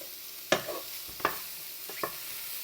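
Garlic sizzling in a hot pan, lowered to gentler heat, with a soft continuous fry broken by four sharp utensil scrapes as it is stirred.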